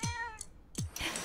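A cartoon cat in a Zelda: Echoes of Wisdom game trailer gives a short meow, then a second meow follows with a brief chirpy trailing sound, both close and clear.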